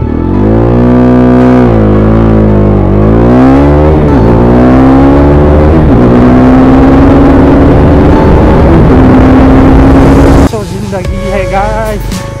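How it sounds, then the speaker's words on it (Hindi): Bajaj Dominar 250 BS6 motorcycle engine pushed to top speed, a loud close roar climbing through several gear changes with pitch sweeping upward each time, then cutting abruptly to softer rumble with a voice. "डोमिनार 250 BS6 का टॉप एंड स्पीड चेक करने वाले हैं"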